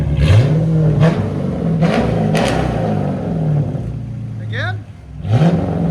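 A 2014 Dodge Charger R/T with a 5.7L HEMI V8 and straight-pipe true dual exhaust revs in repeated sharp bursts, each one rising and falling back to a loud rumble, close by, with a person speaking briefly.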